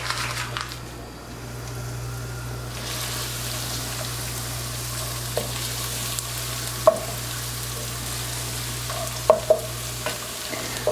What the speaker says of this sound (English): So we're going to just fry this up